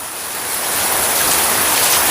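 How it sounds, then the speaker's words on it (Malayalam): Heavy rain pours steadily, a dense broadband hiss that swells slightly and holds, close and loud with no voices. "വേണ്ട, മഴ പെയ്തു, നല്ല മഴയും."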